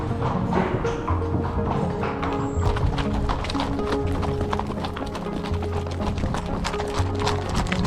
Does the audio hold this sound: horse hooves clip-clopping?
yes